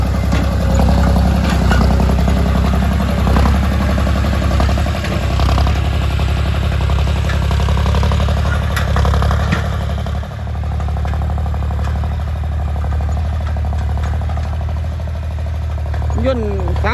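A John Deere 5050D tractor with a 2,900 cc three-cylinder turbo engine runs at a loud, steady, clattering idle throughout, with someone talking over it.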